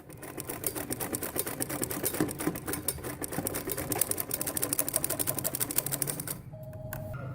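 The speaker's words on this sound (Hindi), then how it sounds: "अब मैं इसकी सिलाई करनी" A sewing machine stitches Patiala salwar fabric in a fast, steady mechanical rattle that runs close and even for several seconds. It stops abruptly near the end and leaves a quiet pause.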